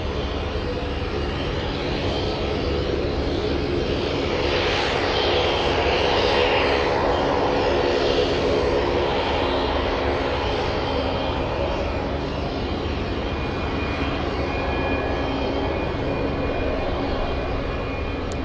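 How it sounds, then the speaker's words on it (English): Douglas DC-3 propeller airliner taxiing on a windy airport apron, its radial engines giving a continuous loud rumbling drone that swells slightly midway and holds steady throughout, with no speech. "DC3 on the move"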